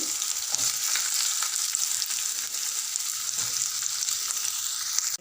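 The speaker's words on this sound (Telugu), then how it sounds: "ఇప్పుడు అదే ఆయిల్లో దొండకాయ ముక్కలు వేసుకొని ఫ్రై చేసుకోవాలి" Ivy gourd pieces frying in oil for a tomato chutney, a loud dense sizzle that stays constant throughout, with faint scrapes of stirring and no talking.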